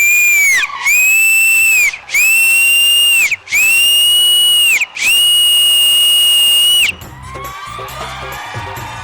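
Several loud, piercing whistles from a dance show audience, five long shrill blasts in a row separated by short gaps, then a noisy crowd of cheering and chatter takes over.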